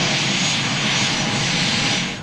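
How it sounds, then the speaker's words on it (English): An Australian-owned private jet lands at Essendon Airport in Melbourne, its engines giving a loud, steady roar of broad rushing noise that holds for about two seconds and eases slightly at the end. "The Australian-owned private jet touched down at Essendon Airport shortly after 8:30"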